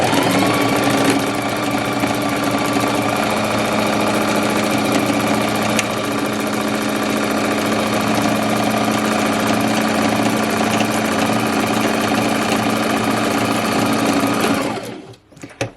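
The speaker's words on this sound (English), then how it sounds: "I'm just going to sew along that edge with a straight stitch and a 1 centimetre seam allowance" A domestic sewing machine runs a straight stitch seam on fabric for trousers, giving a continuous fast whirring drone that holds steady for about fifteen seconds and then stops abruptly with a couple of small clicks.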